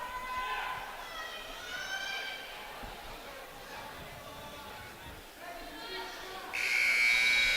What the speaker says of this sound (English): immediately as the buzzer was going off